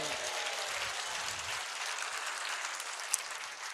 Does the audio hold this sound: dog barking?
no